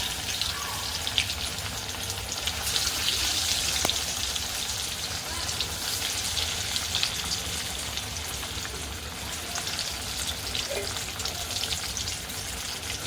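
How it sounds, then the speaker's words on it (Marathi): Alu vadi, colocasia leaf rolls, fry in hot oil over a low flame with a steady, dense crackling sizzle that holds throughout, close and even. "गॅस अगदी कमी ठेवून मंद आचेवर त्या तळून घ्यायचं"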